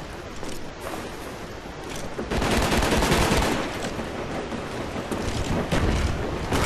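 Gunfire crackles in a Call of Duty match during a shoutcast session, a loud, dense, continuous rattle of shots with a noisy wash that swells and stays heavy after the first couple of seconds, with no clear speech.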